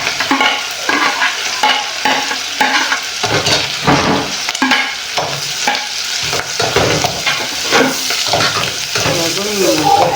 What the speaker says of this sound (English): I'm just going to stir fry this for a while.